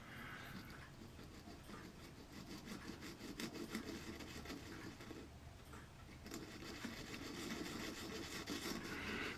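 Steady back-and-forth rasping of hand sanding on wood for a model ship, close and rhythmic, continuing without talk.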